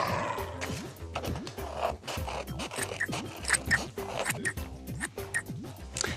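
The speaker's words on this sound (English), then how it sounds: "Now we can cut this body shape out, but be careful, scissors are sharp." Scissors snip and scrape through paper while a body shape is cut out for a children's craft, giving a run of close, irregular crisp cuts over a faint background melody.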